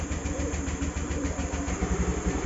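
Car engine with a fault turns over, catches, and then idles roughly: a low, lumpy, uneven pulsing throb that keeps repeating, loud and close, with no voices.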